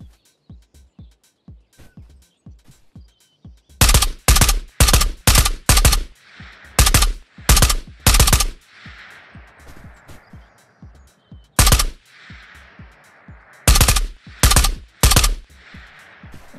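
Bursts of gunfire in the shooter video game Ghosts of Tabor, loud rapid volleys fired in repeated clusters, with quieter single shots and softer clicks filling the gaps between them.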